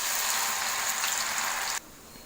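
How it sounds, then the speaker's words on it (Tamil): Cauliflower 65 (gobi 65) pieces deep frying in hot oil, giving a dense, even bubbling hiss that holds steady and then cuts off abruptly, leaving only quiet background. "இப்போ எண்ணெயில் போட்டு எடுத்துடலாம்."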